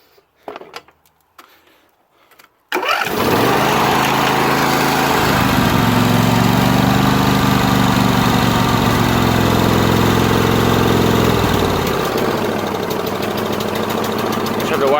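Craftsman lawn tractor engine running loud and rough with no muffler attached, starting abruptly after a few seconds of quiet handling noise and then roaring continuously at close range with shifting tone as it is choked.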